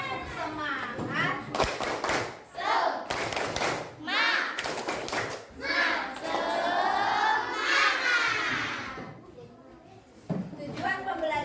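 A group of schoolchildren claps a rhythmic chant, bursts of sharp claps alternating with shouted words in unison, loud and close.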